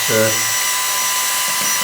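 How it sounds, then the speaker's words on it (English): A drill mixes alginate at moderate speed, giving a steady high whine that runs throughout, with a person talking briefly over the start. "we don't want the drill on too fast"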